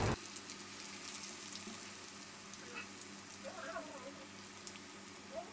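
Finely ground curry leaf paste fries quietly in hot coconut oil over a low flame, a soft, steady crackle and hiss that follows a brief bump at the start.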